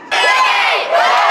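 Parents cheer loudly after a goal at a children's ice hockey tournament in an indoor arena, a sudden burst of shouting and whooping that rises, dips briefly, and swells again.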